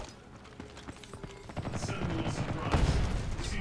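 Mounted turret fire in the Ghost in the Shell video game: rapid, rattling bursts of shots build in intensity over a few seconds, fairly faint and close-miked, with a heavier thump near the end.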